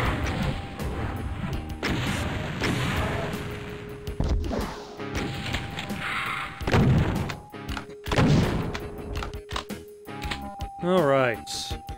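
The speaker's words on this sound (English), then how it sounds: "Sir, I do not appreciate you shooting rockets at me from a distance." Rockets fired and exploding in the PC shooter Final Doom, a series of loud blasts and crashing impacts spread through the passage, mixed with game music, pickup chimes and a talking voice.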